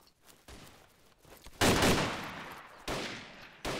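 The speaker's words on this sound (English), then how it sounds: "I'm getting shot at, very close range." Gunfire in DayZ at very close range: loud, sharp bursts of shots land in clusters, with a heavy volley at the midpoint and further bursts near the end, no talking.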